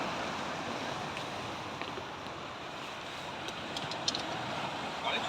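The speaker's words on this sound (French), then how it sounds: "laissez les gens écouter le bruit des vagues" Ocean waves wash steadily at a sunny garrigue coastline, a broad continuous hiss of surf with faint clicks and small bumps, no talking.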